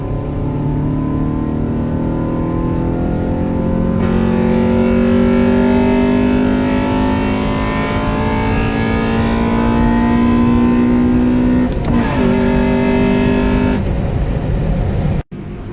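A stock Honda Civic Si with a 1.6 liter engine pulls hard in third gear, its engine note climbing steadily for about twelve seconds before a brief shift break and a short resumed pull, loud and close throughout.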